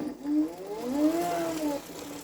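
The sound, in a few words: BLDC motor running rough under regenerative braking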